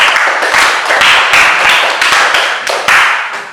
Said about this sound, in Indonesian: Ya, tepuk tangan dulu untuk Eka.